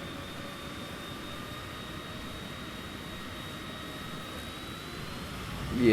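An airplane engine in Microsoft Flight Simulator 2020 drones steadily with a faint high whine, low and even, rising to a louder surge at the very end.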